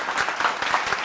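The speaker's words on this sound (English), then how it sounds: "You all deserve a round of the most hysterical applause our sound man can muster." Applause played in at an awards ceremony for culinary finalists, a steady, dense clapping wash with no voices over it, filling the whole short stretch.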